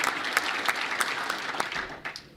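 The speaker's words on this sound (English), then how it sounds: "he deserves a huge round of applause" Room of Senate Democrats gives applause, a soft-to-moderate wash of many hands with distinct individual claps popping out, tapering off toward the end.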